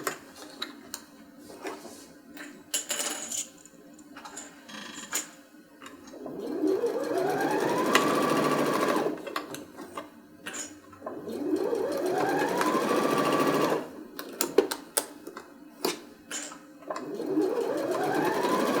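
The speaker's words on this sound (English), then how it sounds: "So we're just going to sew this right along the edge of the zipper 1/4 of an inch." A sewing machine stitches along the edge of a bag's zipper, running in several bursts of rapid mechanical ticking and whirring with pauses between, close and fairly loud, with light handling clatter.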